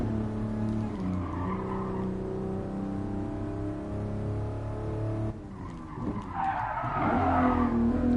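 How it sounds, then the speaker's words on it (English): A car in Gran Turismo Sport skids on a desert track with the e-brake pulled. A steady engine drone and tire squeal run throughout, then the pitch shifts as the engine revs back up near the end. "And the e-brakes is good on this car."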